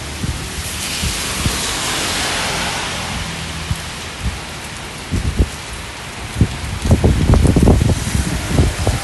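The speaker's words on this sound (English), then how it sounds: "the wind is causing quite a bit of an issue" Wind gusts over steady rainfall during an outdoor rain walk at Prince of Songkla University in Phuket, Thailand, a broad rushing hiss with buffeting thumps on the microphone that grow stronger and more frequent toward the end.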